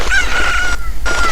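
Cucco chickens in the Zelda: Ocarina of Time video game cluck and crow in a loud, squawking burst, with a short break before the calls resume, and no talk over them.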